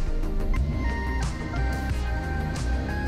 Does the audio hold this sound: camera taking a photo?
no